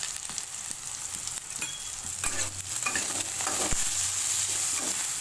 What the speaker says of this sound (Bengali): এটা পুরো ভাজা ভাজা হবে,